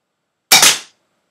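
A BB gun fires two shots in rapid succession, two sharp, close, loud snaps a split second apart, standing alone against silence.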